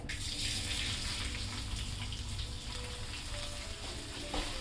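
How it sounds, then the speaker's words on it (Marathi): Rice sizzles in hot ghee in a pan, a dense, steady hiss and crackle that fills the whole stretch at close range, with faint stirring scrapes underneath. "हे तांदूळ आहे ना तुपामध्ये चांगले व्यवस्थित फ्राय करून घ्या"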